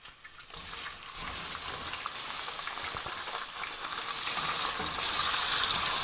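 Chicken pieces frying with golden-browned onions in a cooking pot give a steady, close sizzle and hiss that grows slightly louder toward the end, with no talking.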